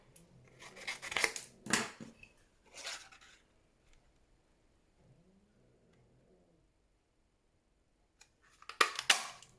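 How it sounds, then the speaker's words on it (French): A craft paper punch cuts out a shape for a paper monkey, giving a few sharp crunching snips near the start, a quiet stretch of faint handling, then another burst of cutting at the end. "Je vais déjà venir le découper avec ma perforatrice."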